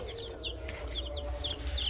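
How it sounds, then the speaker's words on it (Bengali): Baby chickens, newly bought egg-laying chicks, give a quick series of high, thin peeps, close by and fairly faint over a low background hum. "এই যে মুরগি বাচ্চা দেখতে পাচ্ছ"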